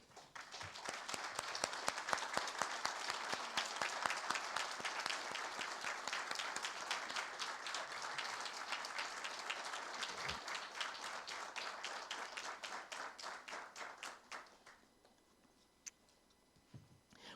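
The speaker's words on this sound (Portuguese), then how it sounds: "fiquem de pé para receberem uma salva de palmas para a nossa homenagem a eles" Sustained applause from a seated audience at a formal inauguration ceremony, steady dense clapping for about fourteen seconds before tapering off into a quiet room with a few stray claps.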